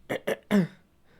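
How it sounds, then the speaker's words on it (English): A person close to the microphone gives three quick, harsh coughs, the last one drawn out into a rough throat clearing, followed by quiet. "I know it doesn't come out for good audio to be constantly hacking and coughing"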